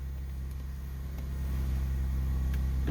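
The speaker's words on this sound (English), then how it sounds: "I'll start the vehicle. Very easy, the car is running." A 2023 Genesis GV70 idles with a low, steady engine hum that is quiet and close, swelling slightly partway through, with no voices.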